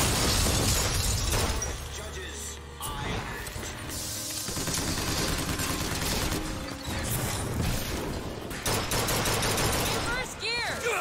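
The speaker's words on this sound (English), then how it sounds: "He's got a machine gun." Enemy machine gun fire in Bioshock Infinite on hard difficulty, loud sustained bursts mixed with clanking mechanisms, shattering debris and game music throughout, with a voice talking over the gunfire.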